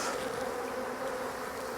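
Honey bees buzz on a hive frame during an early-season colony inspection, a dense, steady drone from many insects close by, with no talking.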